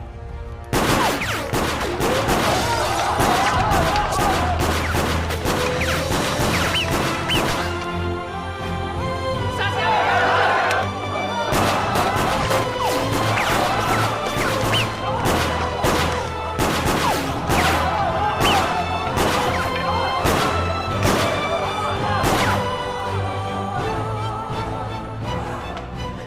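Rapid bursts of gunfire crack repeatedly, a barrage of overlapping shots with voices shouting in Cantonese and booming impacts mixed in.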